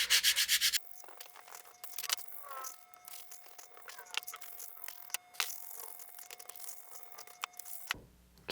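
Sandpaper rubs a bevel onto a model rocket part for an Apogee Nike Hercules kit, a close, soft, scratchy back-and-forth rasping in uneven strokes, fairly quiet, no speech.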